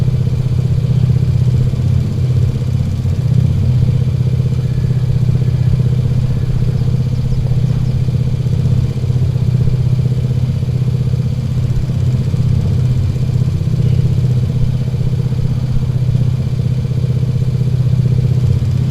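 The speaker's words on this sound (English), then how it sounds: "It's supercharged, turbocharged lawnmower." A supercharged, turbocharged lawnmower engine runs steadily while moving a trailer during field work, a loud, close, unbroken mechanical drone with rattling clatter and no pauses, and no talking over it.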